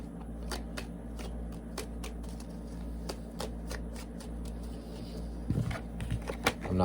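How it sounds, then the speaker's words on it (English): Tarot cards being shuffled by hand, a steady run of crisp riffles and soft slaps close up over a low background hum, growing a little busier near the end. "If you don't like the shuffling, you're more than welcome to speed ahead."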